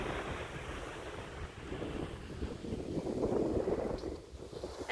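Ocean waves wash onto a beach near a bridge in a steady broad roar, with wind gusting across the microphone.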